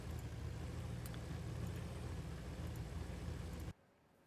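A car engine in BeamNG.Drive holds a steady, droning rev for several seconds at a constant loud level, then cuts off abruptly into near silence.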